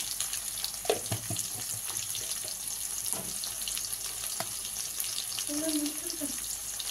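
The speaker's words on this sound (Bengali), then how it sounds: "এবার দিয়ে দিলাম আমি আলুগুলো একটু কষে" Potato pieces being sautéed in oil with salt, turmeric, ginger-garlic and cumin-coriander powder, a soft continuous sizzle with occasional scraping and clinks, close but fairly quiet, with a faint voice briefly in the background.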